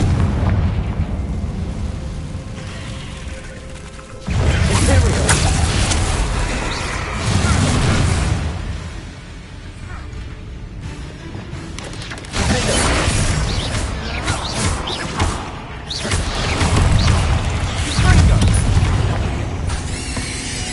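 Spell blasts and bangs from the Hogwarts video game, the Confringo fire spell among them, come as repeated loud bursts amid dense, busy combat effects and music, with brief voice lines now and then.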